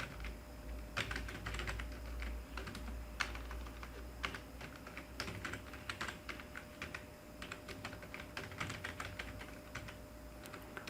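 Steady typing of Java array code on a computer keyboard, with irregular rapid key clicks and occasional heavier keystrokes over a faint electrical hum, close and continuous without speech.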